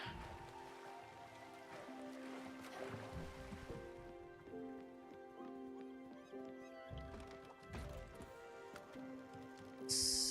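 A boat sailing on water in the video game Spiritfarer, with soft lapping and sloshing under layered game music and ambience at low volume, ending in a brighter splash.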